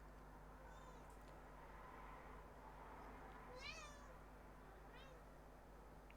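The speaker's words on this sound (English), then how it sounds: "Cat." A house cat meows a few times, short rising-and-falling calls heard faintly over a steady low mechanical hum.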